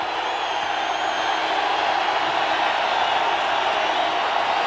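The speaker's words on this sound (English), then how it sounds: "Floyd Peters pumping up his troops and the Tampa Bay crowd." Crowd at a Tampa Bay Buccaneers home football game against the Philadelphia Eagles in 1991, a broad, sustained stadium roar that holds steady and loud for the whole stretch with no pause.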